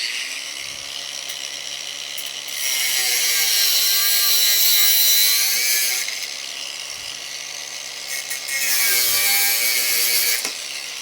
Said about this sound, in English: So, I've just cut that with the angle grinder.